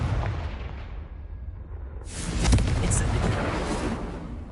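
A Confringo spell blast in Hogwarts Legacy goes off as a sudden bright crackling burst over an ongoing rumble of game effects, fairly loud and followed by a sizzling, fiery tail.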